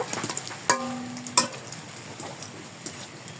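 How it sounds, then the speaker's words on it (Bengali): Crisp fritters of jute leaves in a lentil batter fry in hot oil, with a soft, constant sizzle under sharp metallic clinks as a spatula flips and turns them. "উল্টে পাল্টে এভাবে মুচমুচে করে ভেজে নিব"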